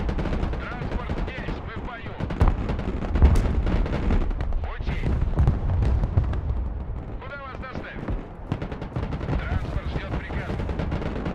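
MLRS rocket artillery fires in Broken Arrow, a modern warfare game, and the rippling launches and booming impacts rumble heavily and continuously under someone talking throughout.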